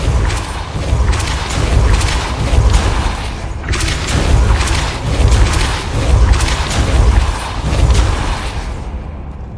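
Depulso spell blasts in Hogwarts Legacy, a series of loud, deep whooshing booms and thuds arriving in several heavy surges, close and forceful, with no talk.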